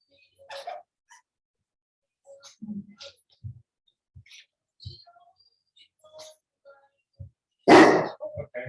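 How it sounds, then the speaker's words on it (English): A dog gives a few short, sharp barks and yips indoors, scattered and sporadic, with one louder bark near the end amid quiet clicks and soft sounds. "He's the guard dog."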